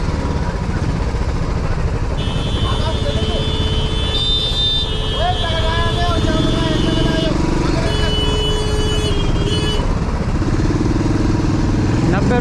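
A Royal Enfield 500 motorcycle rides a highway on the road from Delhi to Haridwar. Its engine drones steadily and loudly throughout, with passing traffic and bright horn-like tones rising and falling over it.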